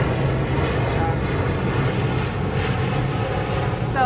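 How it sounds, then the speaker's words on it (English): An airplane passes overhead outside a porch, its steady engine drone filling the background at constant loudness for several seconds, with faint outdoor noise and no talking. "Just gonna let the plane go."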